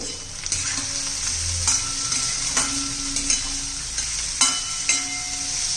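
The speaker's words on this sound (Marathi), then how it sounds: "बघा त्यामध्ये हा वटाणा आपण बारीक करून घेतलेला आहे तो घालून घ्यायचा आहे छान असं तेलामध्ये आपण आता परतून घेऊ" Ground fresh peas sautéing in oil in a pan, with a continuous close sizzle and regular stirring scrapes throughout.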